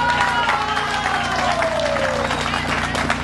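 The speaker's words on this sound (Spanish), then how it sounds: "a quienes para ellos pido un fuerte aplauso" Sustained applause from a crowd at a community council meeting, steady and fairly loud throughout, with a faint tone and murmur underneath.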